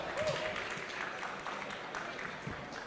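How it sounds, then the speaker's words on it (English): A conference audience applauds a startup pitch at a tech event, a faint, fairly distant patter of clapping that continues evenly for a few seconds, with a hint of voices beneath. "Big round of applause for Cortex Hub."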